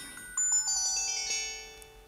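Samsung C260 mobile phone playing its short electronic power-off tune, a few rising and falling synthetic tones that ring on and fade out, heard close and alone.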